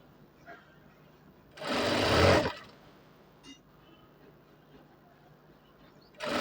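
A sewing machine stitching a shirt seam runs in one loud burst of under a second, with faint clicks and handling sounds before and after and a new burst starting at the end.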